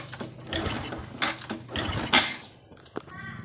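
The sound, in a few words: kick-starting Honda Supra X 125 motorcycle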